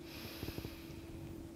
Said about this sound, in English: breathing in nice and deep.